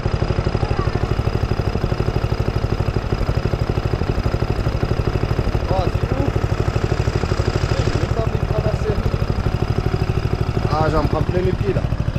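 A ride-on mower engine runs steadily with a loud, low, rhythmic chugging throughout, with occasional clattering and faint voices nearby.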